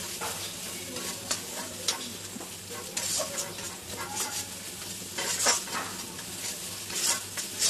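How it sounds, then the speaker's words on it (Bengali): Cashew paste fries in a pan with cooked spice masala, giving a soft continuous sizzle broken by repeated scraping strokes of a spoon stirring against the metal. "কাজু বাদামটা অল্প একটু ভাজবো, বেশি ভাজবো না।"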